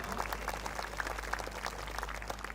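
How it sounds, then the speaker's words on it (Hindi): Applause from a satsang audience welcoming a guest swami, a steady spread of many hands clapping at a moderate distance, continuous through the moment with no voices over it. "एक बार जोरदार तालियों के साथ स्वागत हो"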